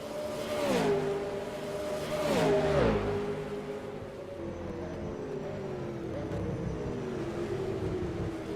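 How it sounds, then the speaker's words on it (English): Racing engines of V8 Supercars at Tailem Bend in the rFactor 2 sim: steady loud engine drone with pitch sweeping down through gear changes and rising again, cars running close together with no talk. "Paul Robinson closing in using that slipstream available."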